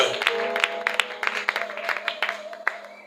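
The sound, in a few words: congregation applauding for the glory of God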